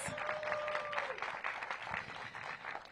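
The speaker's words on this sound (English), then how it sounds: "Give the DHS team a big round of applause." A crowd at a supportive housing opening gives a round of applause for the Department of Human Services team, a fairly faint but continuous wash of clapping, with a brief tonal ring near the start.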